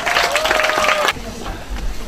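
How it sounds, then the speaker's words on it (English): An audience gives a round of applause at an academic high school presentation event, a dense burst of clapping that cuts off abruptly partway through, followed by quieter room noise. "Please give them a big round of applause"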